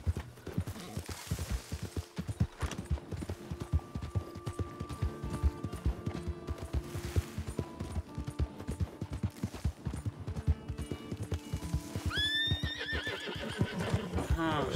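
A horse in Red Dead Redemption 2 lets out a shrill whinny over a long run of clip-clopping hooves, with gunfire-like pops and faint voices in the background.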